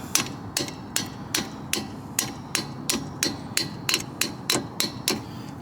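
Sharp metallic taps of channel-lock pliers used as a hammer on a brake part of a 2006 Honda Odyssey, about fifteen evenly spaced strikes in a steady rhythm, close and clear with no talking.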